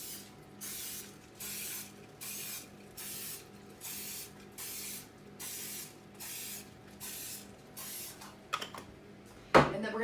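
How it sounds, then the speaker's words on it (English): Cooking spray is applied to donut baking pans in about ten short, even hissing bursts, each followed by a brief pause, then a small clatter at the end. "So we're gonna give those a quick little spray with the cooking spray."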